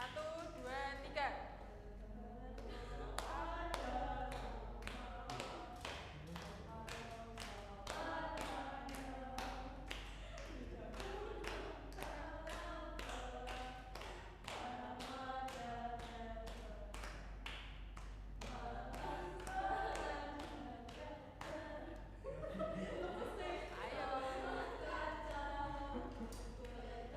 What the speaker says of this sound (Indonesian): Ayo tepuk tangan semua, ikut.